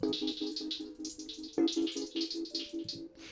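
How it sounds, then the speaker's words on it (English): A busy, fast hi-hat pattern programmed in music production software, rapid crisp ticks with stuttering rolls over a low sustained tone, steady and moderately loud throughout. "So now we have a crazy sort of hi-hat"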